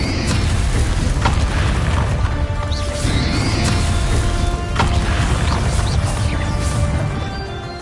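Bombarda blasting spell explosions in Hogwarts Legacy, several heavy booming crashes over a dense rumbling battle backdrop, with sweeping whooshes and a few sharp impacts spread across the stretch.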